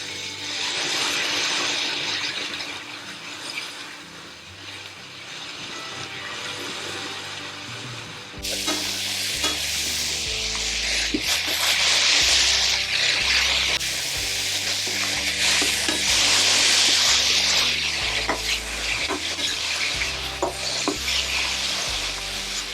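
Chicken pieces for Guntur chicken fry hit a hot pan and stir-fry: a steady loud sizzle, rising and crackling harder once the meat goes in partway through, with repeated scraping and stirring strokes and no talk.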